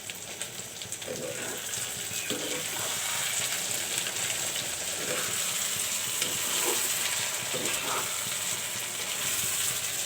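Beef tripe pieces and cinnamon fry in oil with a soft, continuous sizzle, broken by light scraping and stirring knocks at a fairly even pace.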